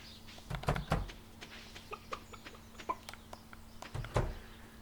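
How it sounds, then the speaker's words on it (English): Stardew Valley farm chickens cluck in short, scattered bursts over a quiet steady hum, a few louder clucks standing out among softer ones. "Chickens!"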